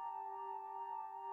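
Dry techno synth chords with no chorus effect hold one steady, quiet sustained chord with no rhythm and no voices.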